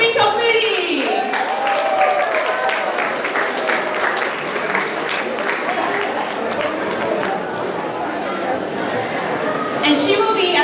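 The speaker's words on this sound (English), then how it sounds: "can you please give a big round of applause for Cutie Tofuti?" A crowd at the Northern California Soy & Tofu Festival in San Francisco breaks into steady applause and cheering outdoors. A voice rings out at the start, and the clapping holds strong for about ten seconds.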